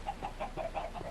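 Minecraft chickens in an egg-producing chicken pit cluck over and over in a steady, bubbly rhythm, fairly close and moderately loud, with no talking.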